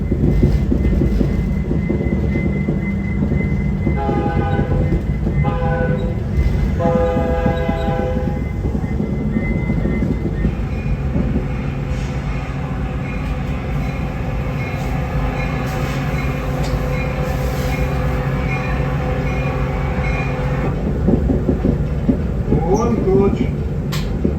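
The Canadian passenger train rumbles and squeals as it rolls into a station, with a horn sounding and heavy rail noise throughout under occasional voices.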